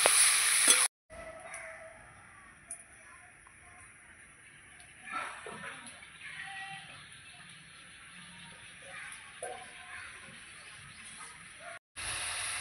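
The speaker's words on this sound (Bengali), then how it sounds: "এবার আমি ভালো করে পেঁয়াজের সঙ্গে মাংসটা কিছুক্ষণ কষাবো" Chicken pieces frying with onions in a pan give a steady, quiet sizzle with occasional stirring scrapes and small splatters throughout, heard close up without any talk.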